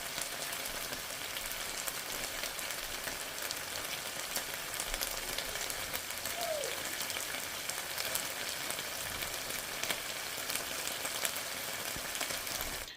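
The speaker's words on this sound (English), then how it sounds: "this steak has been cooking for about 10 minutes" Thinly sliced steak for pepper steak fries in a pot with a continuous, even sizzle and crackle, close up and steady throughout with no voices.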